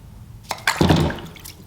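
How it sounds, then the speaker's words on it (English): A Zippo emergency fire kit case plunges into water, giving a short splash followed by about a second of burbling, settling water, close and alone. "We're gonna drop this in the water."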